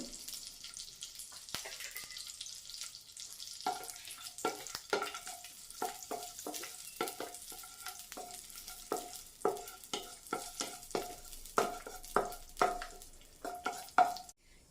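Cashews and raisins frying in coconut oil and butter, starting as a soft sizzle that gives way to repeated sharp stirring taps and scrapes against the pan, close and growing busier toward the end.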